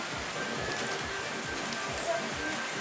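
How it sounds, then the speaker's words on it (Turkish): Steady rain patters down in a constant, even hiss, with soft drops tapping a surface nearby; no voices. "yağmur bizi bekliyordu sanki"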